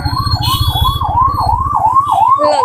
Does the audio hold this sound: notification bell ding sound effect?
no